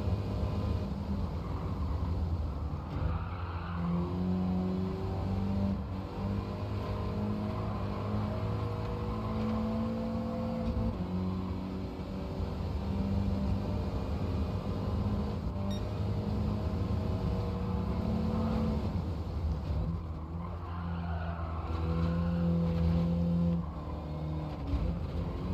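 Racing cars in Gran Turismo 7 drone steadily, with engine pitch rising and falling through gear changes over a long continuous stretch, moderately quiet and with no talking.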